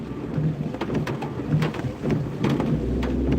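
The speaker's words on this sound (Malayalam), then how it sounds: "നല്ല മഴയല്ലേ" Heavy rain pours steadily with dense pattering drops and low rumbling, no voices.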